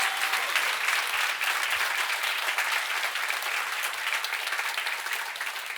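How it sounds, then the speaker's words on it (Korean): A church congregation at a healing worship service applauds together, a sustained dense roar of clapping that stays strong and only eases slightly toward the end, with no speech over it. "하나님께 우리 감사와 영광의 박수 올려드리도록 합시다"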